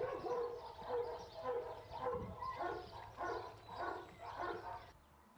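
Several dogs at a boarding kennel bark in repeated bursts, a fairly close, echoing chorus of yaps and woofs coming every second or so, then cutting off.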